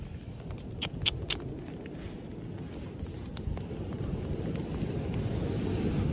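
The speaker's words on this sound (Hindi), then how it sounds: "ये देखो तो बारिश होने लगी भाई" Steady rain hisses and patters outdoors in Kerala, a broad wash of noise that slowly grows louder, with a few faint clicks early on.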